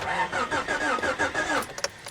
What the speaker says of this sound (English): But it cranks, and that's what I needed to know.